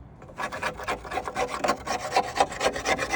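Old silicone is scraped out of the valve cover of an International DuraStar 4300 truck in quick, rasping, close strokes that repeat steadily, with no talking.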